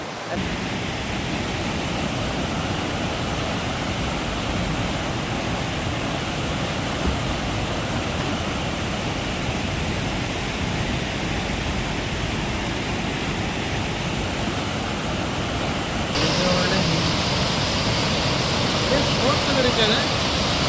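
A mountain stream at Bisle Ghat, Sakaleshapura, rushing with great force as a dense, unbroken roar of water, steady and loud throughout, growing slightly brighter near the end.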